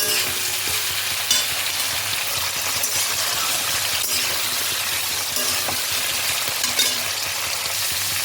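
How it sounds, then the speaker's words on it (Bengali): Vegetables stir-fried in a kadai give off a loud, steady sizzle that lasts throughout, with faint scraping and clinks from stirring and no voices. "আমি এখন এই সবজিগুলোকে কড়াইতে ভালোভাবে খানিকক্ষণ নেড়ে নেব"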